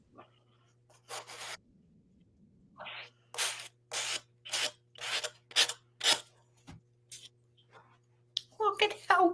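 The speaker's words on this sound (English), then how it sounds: "And sand off the edges." Rhythmic rasping strokes of sanding along the edges of a DTF printed holiday ornament, a series of about eight short scrapes at close range, with a low steady hum underneath and some brief rustling.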